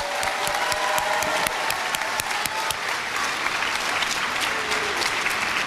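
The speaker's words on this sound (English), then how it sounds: "You can clap for yourself." A youth audience at an excellence awards program claps for themselves, producing a steady wash of crowd applause with some sharper individual claps standing out and a faint voice underneath.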